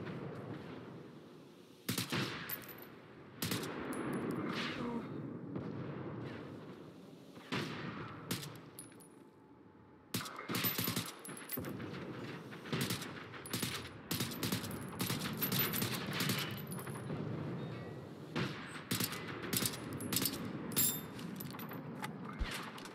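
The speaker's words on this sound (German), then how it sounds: "die beballern sich da unten gegenseitig" Gunfire from enemies shooting at each other down below in the video game Generation Zero: repeated sharp shots and bursts, some clustered in volleys, over a steady dense rumble across the whole stretch.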